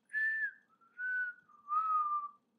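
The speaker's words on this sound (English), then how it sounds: "Yeah, it was a whistle." A person whistles three sustained, gently falling notes in quiet, each held about half a second with short pauses between, close and clear.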